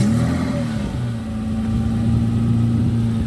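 A 1992 Jaguar XJ-S with a 4.0 litre engine running close by, a loud steady hum with a slight dip and then rise in pitch, no voices over it.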